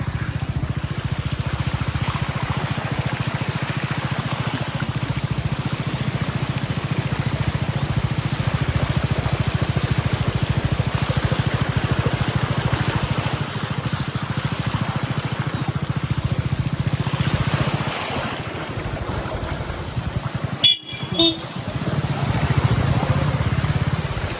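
Heavy storm rain pours down in a steady, dense roar that fills the whole stretch, with a brief sharp disturbance near the end.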